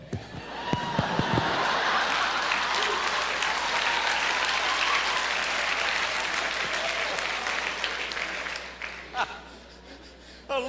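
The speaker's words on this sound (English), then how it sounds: "look at these young people clapping" Young people in a live audience burst into loud, sustained applause with scattered cheers, starting over a brief spoken line and rolling steadily for several seconds before fading out as a voice returns at the end.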